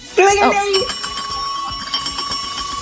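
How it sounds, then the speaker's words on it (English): A single bright bell rings near the start and its tone lingers and fades, with some background noise. "Ring that bell."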